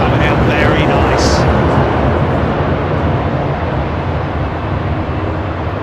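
A broad, steady jet roar of airliners on the ground at London Heathrow Airport fills the air, loud and continuous, with a faint high whine near the start.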